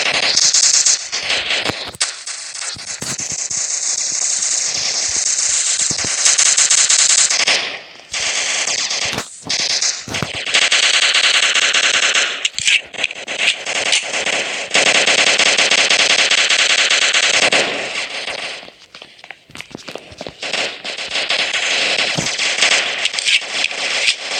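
Gunfire in the blocky online shooter game Block Strike: loud, rapid automatic bursts and shots rattle almost continuously, with brief pauses between volleys.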